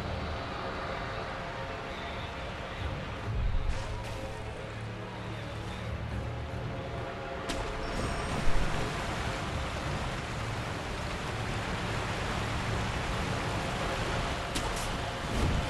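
A waterfall in Sekiro: Shadows Die Twice gives off a steady, dense roar that fills the whole stretch, broad and unbroken, with only a few faint clicks and thuds over it.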